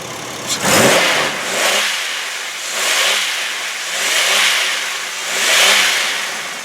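A 2003 Buick Century Custom's 3.1 liter V6 revved in several swells after a short start, each rise and fall of the engine loud and close, with no talking.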